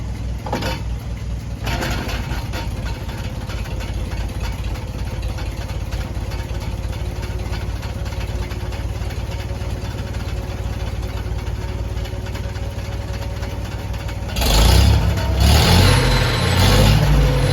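Tractor engine running steadily with the PTO engaged on a dyno near 600 PTO RPM, a loud continuous drone that swells into a heavier, rougher load toward the end, no talk.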